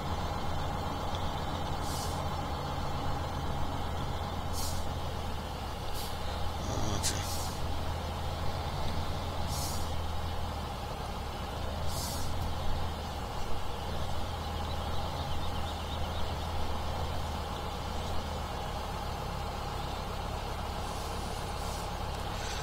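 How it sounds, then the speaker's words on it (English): In Farming Simulator 17, a harvester unloads grain into a trailer, a steady mechanical drone with a low engine rumble and faint periodic hissy bursts, carrying on without talk. "Emptying harvester."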